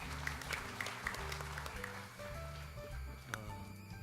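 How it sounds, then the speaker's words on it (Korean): Audience applause at a panel discussion on the Fourth Industrial Revolution held at the National Assembly members' hall, steady clapping from a seated crowd with faint voices and a brief tonal sound underneath. "박수 부탁드립니다."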